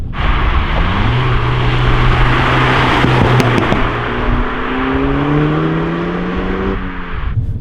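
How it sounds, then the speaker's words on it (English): A 2019 Renault Megane RS Trophy pulls hard under way, its exhaust droning loud and steady with rising engine pitch through the gears, a brief crackle midway, and no talking. "definitely with the exhaust sound, that's what it massively missed on the previous model"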